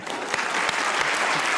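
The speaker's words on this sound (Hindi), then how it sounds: "ये देखे अभी कैसी तालियां बजाई हैं।" Studio audience at a television comedy talk show bursts into loud, continuous applause, dense clapping with a few sharper claps standing out.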